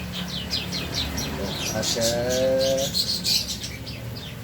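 Oriental magpie-robins in a small aviary give quick repeated chirps and a short clear whistled note, close by, while someone talks over them.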